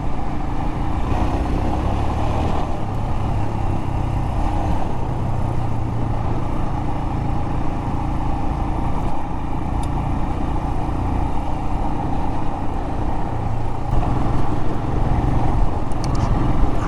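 A Royal Enfield Himalayan motorcycle engine drones loud and close while riding over crushed desert gravel and rock, a continuous rough throb with no clear rise in pitch and no talk.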